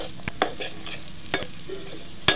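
Salt and chili powder being stirred into village-style boti (tripe) curry in a pan: soft scraping strokes and a few sharp ladle clinks, quiet and sparse, with no voices.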